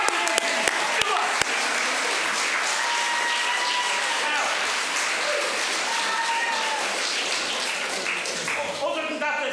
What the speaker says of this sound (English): Keep the applause going till they get up